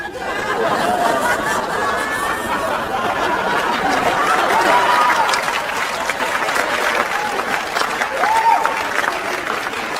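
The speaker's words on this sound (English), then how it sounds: "An applause break over my infidelity." Applause from a comedy show audience, a loud sustained bed of clapping mixed with scattered laughter, chuckles and a few whoops, holding fairly even throughout.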